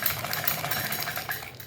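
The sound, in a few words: sewing machine stitching a pocket onto pajamas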